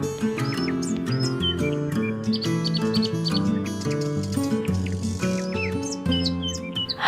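Small birds chirp and tweet in short, scattered calls over a steady musical background of sustained tones, the bird sounds bright but set behind the music throughout.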